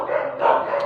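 Dogs barking outdoors, a short burst of a bark or two at moderate distance, fairly loud against a steady background, with no talking.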